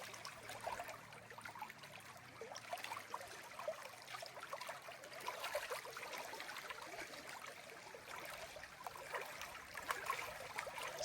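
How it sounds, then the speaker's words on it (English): Water laps and trickles gently beside the Appalachian Trail in autumn, a soft steady stream murmur at moderate distance with no voices. "Listen to that water lapping."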